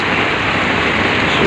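Steady morning rainfall, loud and continuous throughout as a dense, even hiss with no breaks and no voices.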